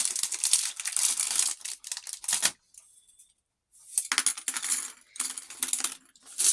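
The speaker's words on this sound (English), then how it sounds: "Now I'm going to just cut a little bit more popsicle sticks to go across here. I'm going to open up a new pack I got." A new pack of wooden popsicle sticks being opened, with bursts of crinkling packaging and rattling wooden sticks, loud and close, broken by a pause of about a second of near silence before the handling resumes.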